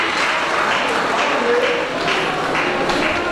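Audience clapping at a university ceremony for Achievers University scholars, a steady dense wash of applause from a large crowd, loud and continuous throughout.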